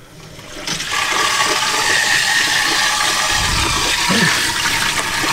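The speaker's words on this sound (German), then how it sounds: "Hier läuft Wasser, gibt's ja nicht." Steady rush of water pouring from a shower tap in a camper van, loud and continuous after a brief quiet start, with a low rumbling gurgle partway through.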